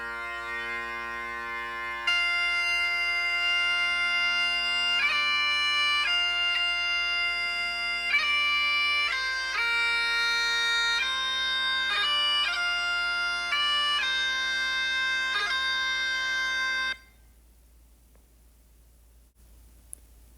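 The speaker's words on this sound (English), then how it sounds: "This is what the bagpipes sounds like" Scottish bagpipes playing a tune over a constant drone, with piercing chanter notes changing in quick steps, loud and alone for about fifteen seconds before cutting off to quiet.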